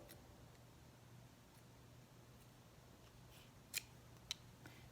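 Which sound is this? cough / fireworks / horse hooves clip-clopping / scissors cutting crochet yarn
scissors cutting crochet yarn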